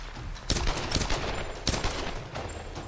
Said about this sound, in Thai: ทีนี้ก็ได้เวลาปืนพกละ